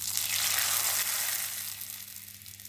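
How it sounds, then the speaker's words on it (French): Rice paper chip frying in hot oil in a pan over medium heat, a loud, steady sizzle with crackling bubbling that eases slightly toward the end; no voices. "Dès que l'huile vous semble suffisamment chaude, mettez-y votre premier morceau."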